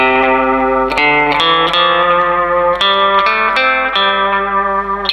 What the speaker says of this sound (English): First of all, I'll play it with that same echo setting.